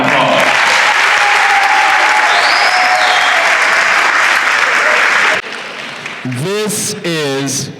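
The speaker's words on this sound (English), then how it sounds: "Would you give them all a round of applause?" An audience applauds volunteering teachers at a 2002 school showcase, steady dense clapping for about five seconds before fading, then a voice speaks over the quieting hall.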